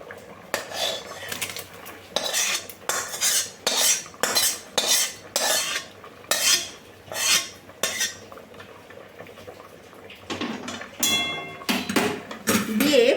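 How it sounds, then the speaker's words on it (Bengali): Cooked shrimp being stirred into pulao in a pot, a series of rhythmic scraping and clanking utensil strokes against the metal, close, with a brief voice near the end. "দেখো নেড়ে চেড়ে এর মধ্যে আমি মিশিয়ে দিলাম"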